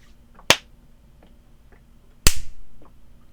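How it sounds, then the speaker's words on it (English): Two sharp, isolated hand claps ring out in a quiet room, the second louder and followed by a short ringing tail, with faint background noise between them. "Do we need to clap? I just clapped"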